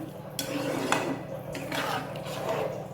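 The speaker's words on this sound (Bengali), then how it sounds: "এগুলো হালকা সব মিক্স করে দিলাম" A spoon stirs dry-roasted kasuri methi into paneer butter masala in a pan, giving soft scraping and a few light metallic clinks over nearly three seconds, close and fairly quiet.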